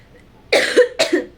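Two sharp, close coughs in quick succession, each a harsh burst with a brief rasping tail, heard alone against a quiet room.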